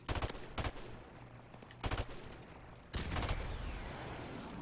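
Rapid bursts of automatic gunfire in the video game Modern Warfare Remastered, several short volleys over a low background hum, fairly close and loud.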